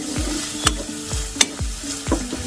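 Tomato masala fries in a pan under a steady sizzle, stirred in a slow rhythm of scraping sweeps about every half second, with sharp spoon taps against the pan rim, close and without any talking.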